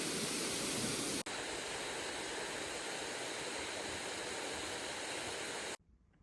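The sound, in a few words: waterfall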